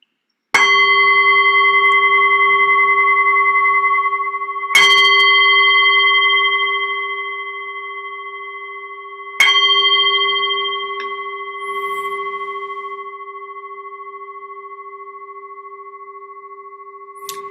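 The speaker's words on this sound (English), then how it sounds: "So I'll just ring the bell and then we can get started with our meditation." A meditation bell struck three times at slow, even intervals, each strike ringing out in a clear, loud metallic tone with long sustained overtones that fade gradually before the next, with no voices.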